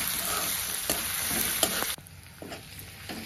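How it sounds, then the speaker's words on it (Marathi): Green chilies sizzle in hot oil alongside peas and onion for a dry spinach stir-fry, a steady close crackle broken by several spoon scrapes and knocks against the pan, softening after the halfway mark. "हिरवी मिरची तिखट कमी जास्त बघून टाकायची, ती पण तेलामध्ये तळते।"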